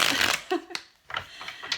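Tarot cards are shuffled close by in quick riffling bursts, with short pauses between passes and a voice talking over part of it.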